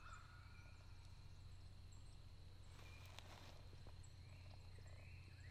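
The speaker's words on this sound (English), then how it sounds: "That turkey I was listening to this morning, still going off back there" Wild turkey gobbling far off in rainy woods during a spring hunt, faint distant calls rising over a steady low background hum and patter, with no one speaking.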